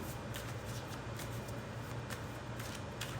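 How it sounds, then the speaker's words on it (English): Cards being shuffled in quick, repeated riffles, a steady rustling crackle close by with no voices. "I want to stop right there"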